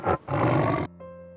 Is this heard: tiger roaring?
yes